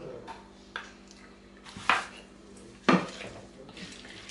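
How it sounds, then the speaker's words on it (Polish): A spoon stirring fried apples mixed with kisiel in a pot, with scattered knocks and two sharp clanks of metal against the pot over a quiet background. "Jabłka mam przesmażone, lekko ostudzone. Dodaję kisiel i mieszam."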